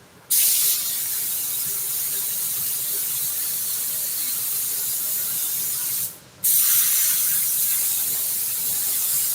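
A loud, steady spray gun hiss, spraying a 2000 Chevy seat bottom, runs for several seconds, cuts out briefly, then resumes just as strongly, close by.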